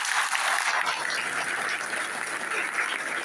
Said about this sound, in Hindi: बड़ी मजा आ रहा है आपकी तालियों की आवाज सुन के